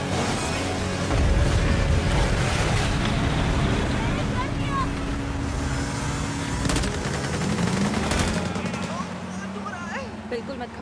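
Gunfire crackles in a Hollywood movie action scene dubbed in Hindi, with repeated shots amid rushing wind and engine noise, mixed with voices talking.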